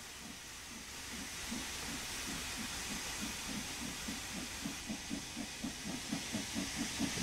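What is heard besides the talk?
steam locomotive safety valve hissing, video game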